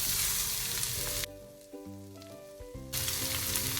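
Two large onions fry in oil with fennel and curry leaves, a dense close sizzle that drops out briefly while a short tonal melody plays, then returns.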